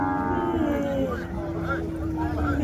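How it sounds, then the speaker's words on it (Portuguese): A bull lows loudly at a cattle fair in Capoeiras, Pernambuco, with a long, deep moo rising above the crowd noise and background chatter. "O cabo tá com um boi gigante ali"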